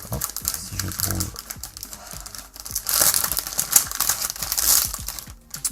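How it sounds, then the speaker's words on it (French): An LED strip is unwrapped from its plastic packaging, close, busy crinkling and rustling with clicks and small knocks, swelling louder toward the middle, as a voice talks faintly in places. "Ok, donc ça, le ruban, on va le déballer"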